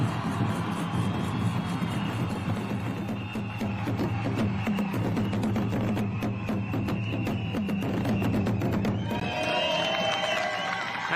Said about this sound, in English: And the roar of the crowd as she rolls away